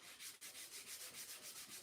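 Painted wood shiplap being rubbed smooth with sandpaper, quick back-and-forth strokes in a steady rhythm, close and soft, with no voices.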